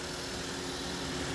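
A 2013 Toyota Avanza G automatic with a 1300 cc engine idling, a steady, even mechanical hum with no changes in pitch or rhythm throughout.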